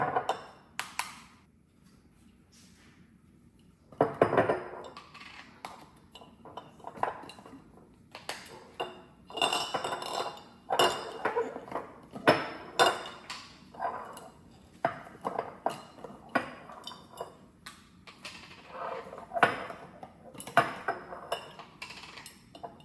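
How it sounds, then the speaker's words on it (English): Glass jars handled and set down during salad meal prep, giving sharp, irregular clinks and knocks close by, some in quick bursts, with quiet gaps between and no talking. "I'm going to start getting my jars ready"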